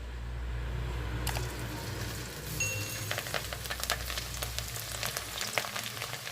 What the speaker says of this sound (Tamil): இப்போ எண்ணெய் ஹீட் ஆனதும் கொஞ்சம் கொஞ்சமாக போட்டு பொரிச்சு எடுத்துடலாம்